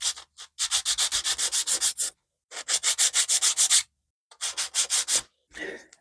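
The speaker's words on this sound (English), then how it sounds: "I'll give them a bit of a lighter sand in a minute to take these off." Scale model aircraft parts for a 1/72 Special Hobby Pinto TT1 being sanded to remove plastic lugs, close and rhythmic, with three bursts of quick back-and-forth rasping strokes separated by short pauses and a final softer rub.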